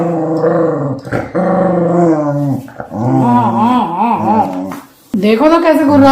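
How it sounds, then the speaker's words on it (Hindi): A dog growls close and loud in long rumbling stretches with brief breaks, the growl rising into whiny, yipping tones at times, indoors at home. "देखो तो कैसे गुर्रा रहा है।"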